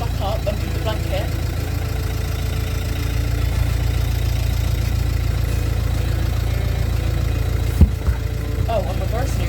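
Ferguson tractor engine running steadily at low revs while reversing over a tyre, a continuous loud rumble with a brief knock near the end and people talking over it.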